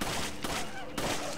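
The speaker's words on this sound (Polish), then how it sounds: "Kolejny strzał." Gunfire in the video game Resident Evil 5 comes as a loud, dense burst of shots with a roaring, noisy tail, two sharp reports about half a second apart, up close and filling the mix.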